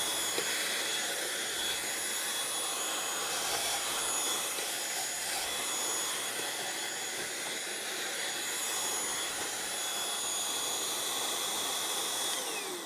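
A handheld stream vacuum whines at a steady, loud roar with a broad hiss, unbroken for about thirteen seconds, while it sucks up a bug in a home kitchen; no one speaks.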